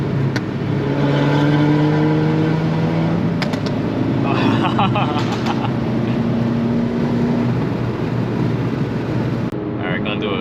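A Volkswagen MK6 GTI accelerating hard, its engine drone rising steadily in pitch under loud wind and road noise, recorded from inside the car. Someone speaks briefly.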